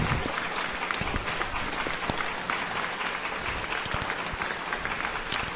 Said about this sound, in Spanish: Dale fuerte el aplauso a Dios.